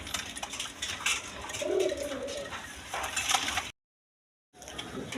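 A pair of pigeons coo softly at close range, low burbling calls repeated over background rustling, then a short gap of silence before faint ambient noise returns.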